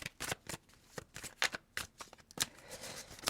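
Tarot cards riffle and slap in a series of quick shuffling bursts with short pauses between, close and crisp, with no talking.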